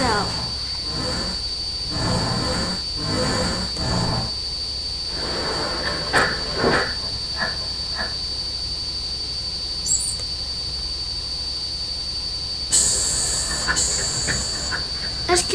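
An SP1900 train in the Minecraft MTR mod runs with a steady hiss and rhythmic rail clatter, plus a constant high whine and occasional squeals, continuous and fairly close throughout.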